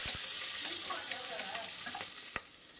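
Onions frying and burning in a home kitchen pan: a steady hissing sizzle with a few sharp utensil taps, nearby and fairly loud.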